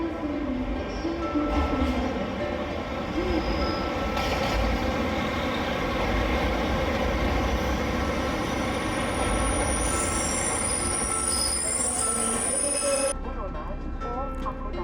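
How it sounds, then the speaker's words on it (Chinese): A train pulls out of Sapporo station in Hokkaido, heard from on board. A steady, close rumble of wheels runs throughout, with high metallic squealing running over it. "接着列车呢驶离札幌车站之后呢，来到南千岁"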